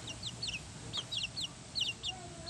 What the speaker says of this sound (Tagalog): Ayan ang mga manok ko guys.